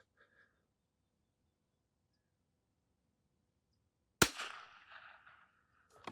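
A single sharp rifle shot fired with Eley Ultra Extreme long range ammunition at a shooting range cracks out of near silence, followed by a short decaying echo.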